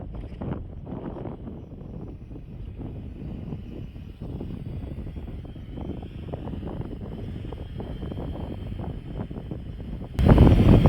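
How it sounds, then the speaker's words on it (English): Strong wind buffets the microphone in an open, rocky outdoor area during a Fimi X8 SE drone flight, a steady low roar with gusts throughout that swells louder near the end. "I'm about to lose my hat in this wind."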